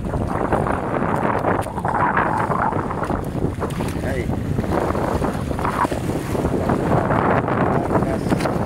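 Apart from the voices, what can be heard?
strong wind at sea on a fishing boat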